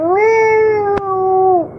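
A cat gives one long, loud, drawn-out meow close by, rising slightly and holding steady before dropping off at the end, with a brief click partway through.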